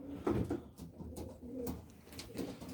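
Racing pigeons in a loft give soft, repeated throaty coos in a low rolling rhythm, close and fairly quiet, with no talking.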